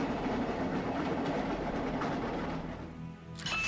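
A train rolls along rails in the JoJo PS2 video game, a steady rumbling clatter with rhythmic clicks that fades briefly near the end before a higher burst returns, with no voices.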